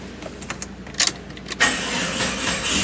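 An older 1999 Jeep Cherokee engine cranks with a few uneven starter bursts on a weak battery, then catches and settles into a steady, close idle.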